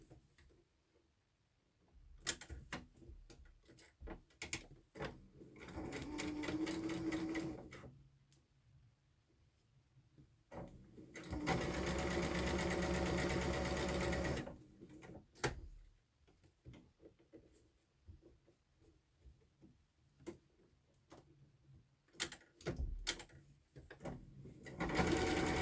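A sewing machine stitches quilt pieces for a temperature quilt in two sustained runs, each several seconds long, with quiet handling noises and light clicks between them and no talk over the stitching.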